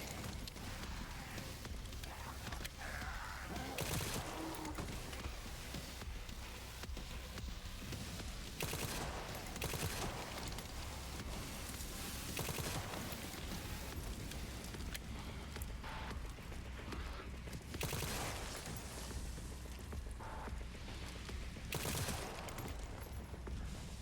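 Dense gunfire at zombies in Resident Evil Requiem, a continuous run of shots in a loud, busy mix with repeated bursts throughout.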